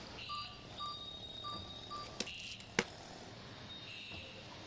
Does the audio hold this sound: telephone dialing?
yes